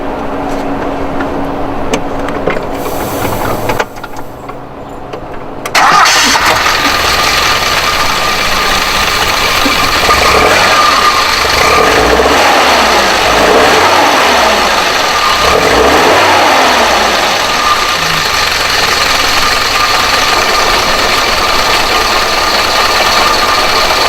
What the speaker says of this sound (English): I'm going to go ahead and start it up so you can hear it.